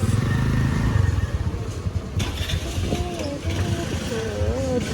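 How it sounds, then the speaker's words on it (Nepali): A scooter engine runs nearby as it is backed out of a parking spot, a rough, rattling motor note under busy street clatter, with people talking over it. "यहाँबाट अङ्कलले स्कुटर झिक्दै हुनुहुन्छ"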